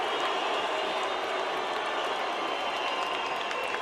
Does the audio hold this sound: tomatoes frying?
no